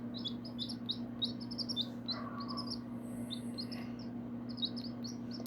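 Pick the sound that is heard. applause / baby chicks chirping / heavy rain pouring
baby chicks chirping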